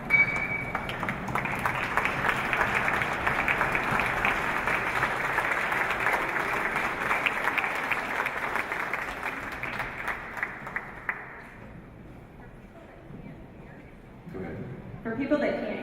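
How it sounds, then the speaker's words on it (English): A jazz and soul event audience gives a standing ovation, sustained loud applause that holds for about eleven seconds before fading, with voices rising at the end. "I'd like everybody to stand and give him an ovation right now"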